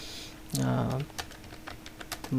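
Several quick keystrokes on a computer keyboard click in a short burst, close and fairly clear, with a voice speaking briefly at the start and end.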